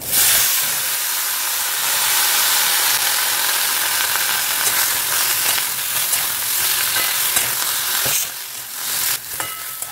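Nigella seeds sizzle and crackle in hot oil left over from frying fish, a dense, loud, steady frying hiss that shifts briefly near the end.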